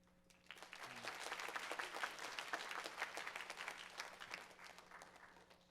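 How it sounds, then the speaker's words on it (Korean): A church young-adults worship audience applauds to welcome an outreach team leader, a sustained burst of crowd clapping that swells quickly and fades gradually, faint and somewhat distant. "여러분 큰 박수로 환영하도록 하겠습니다"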